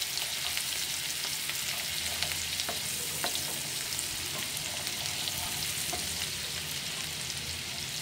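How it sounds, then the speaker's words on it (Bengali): Onion paste frying in a pan for a Bengali-style perch fish curry, giving a steady, close, continuous sizzle with light stirring scrapes throughout and no talking. "একটু নাড়াচাড়া করে দিয়ে দিলাম পেঁয়াজ বাটা।"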